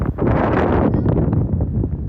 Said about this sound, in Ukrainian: Я не знаю, чи ви чуєте мене зараз, але вітер дуже величезний.